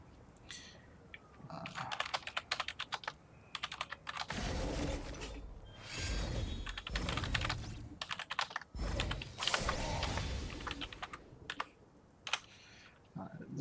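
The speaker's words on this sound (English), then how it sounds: "I'm going to send some messages, typing them in" Fingers type messages on a computer keyboard, a close, rapid clatter of keystrokes coming in dense bursts with short pauses between them.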